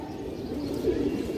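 Domestic pigeons coo in a low, continuous throaty murmur, close by and steady, with no talk over it.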